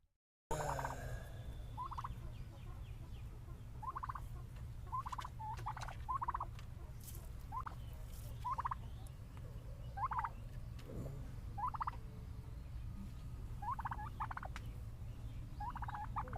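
A turkey gobbles repeatedly in short bursts at irregular intervals, over a steady low background hum.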